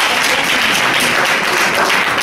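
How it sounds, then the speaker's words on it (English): Audience at an evening community discussion meeting gives a round of applause, a continuous dense clapping that stays loud and even from start to finish with no voices over it. "Please give yourselves a round of applause."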